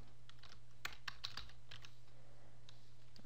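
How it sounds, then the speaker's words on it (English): Code is typed on a computer keyboard: a handful of quick, faint key clicks in a short burst, set against a quiet steady hum with no talking. "We're going to type in if and then no keys, so the same name here, dot positive"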